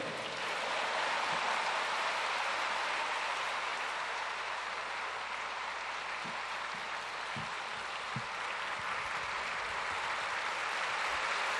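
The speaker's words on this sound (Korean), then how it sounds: "이제 약사님 나오실 때 하나님께 영광 돌리면서 박수로 환영하시겠습니다." Sustained applause from a church congregation welcoming a guest speaker, a broad, even wash of clapping that holds at constant loudness with a few low thumps underneath.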